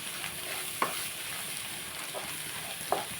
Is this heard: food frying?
yes